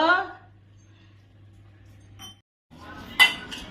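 Kitchen utensils being handled, a few close metallic clinks and clatters with a short bright chink near the end, briefly overlapping a voice at the start.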